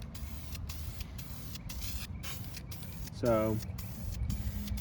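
Short hissing bursts from a spray can lay light coats of paint on a 2009 Honda Civic, repeating in quick pulses close by while someone speaks briefly.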